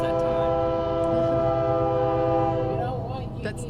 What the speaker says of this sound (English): Yeah, that's a train rolling by.